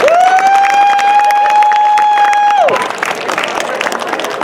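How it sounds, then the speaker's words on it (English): Audience applause and cheering at an outdoor Black Joy community celebration in Seaside, California, starting under a long sustained whistle or held tone, then continuing as dense, steady clapping and crowd noise. "One big round of applause for my very good friend and activist, Nathaniel Sawyer."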